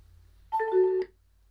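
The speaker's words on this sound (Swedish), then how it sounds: "Där fick vi en liten notis om att den är uppkopplad och redo att användas." A short two-tone electronic chime from a phone, about half a second long, signalling that a Power Dynamics BT10 Bluetooth amplifier has connected. It is clear and alone against a quiet background.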